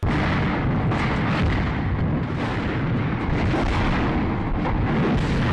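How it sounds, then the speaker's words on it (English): A high-explosive artillery shell blast in wartime Ukraine, big enough to tear a tree from the ground, heard as a continuous loud roar of rumbling, crackling fire across the whole stretch with no speech. "it's like some kind of an artillery shell that's a high explosive maybe, because it creates an ungodly sized explosion"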